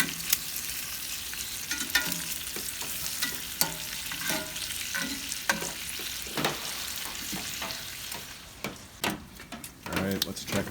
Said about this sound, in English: Let's get back in here and flip the bacon.